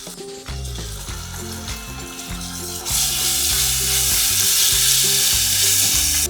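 Garlic and ground masala paste hitting hot oil in a heated cooking pot, giving a loud, steady sizzle that surges into a strong hiss partway through, over background music.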